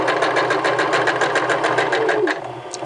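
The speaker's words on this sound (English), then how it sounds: "Stitch forward a couple of stitches and then back stitch." A sewing machine stitches a men's vest, running steadily forward for a few stitches and then back-stitching, with a loud, close, even mechanical whir.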